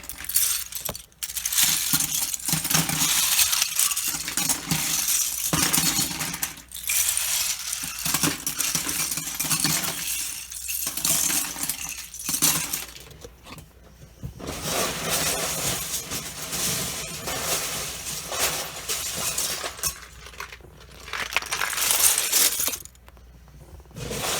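A large pile of loose Lego pieces being sifted and stirred by hand, producing continuous rattling plastic clatter and clinking close up, with brief pauses, no speech.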